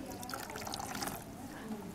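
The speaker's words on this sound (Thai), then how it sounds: "ปิดวาล์วให้น้ำไหลออกให้หมด" Water drains out through an opened valve in a steady, trickling pour that runs continuously at a low level, with faint speech in the background.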